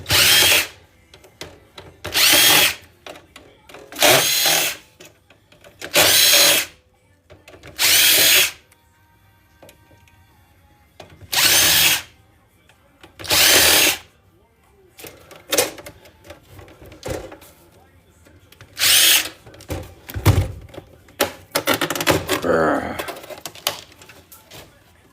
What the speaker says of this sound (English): Guess we're gonna be pulling all the screws out quick.